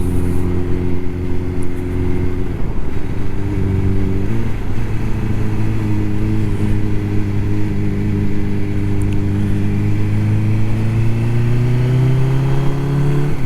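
A motorcycle engine drones steadily while riding on a road, with a constant low hum and shifting pitch as the revs change, loud and close with wind noise and no talk.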